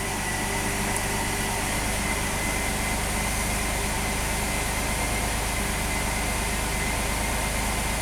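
A V6 engine in a Chevy S10 Blazer truck with an intermittent long-crank fault, giving a steady, continuous mechanical drone that stays even and unbroken throughout, with no voices.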